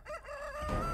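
A video game rooster gives a short, clear cock-a-doodle-doo crow, rising and wavering, close and alone.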